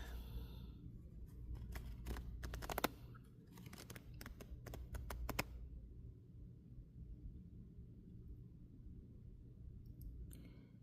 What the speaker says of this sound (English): So we are going to shuffle for the last card.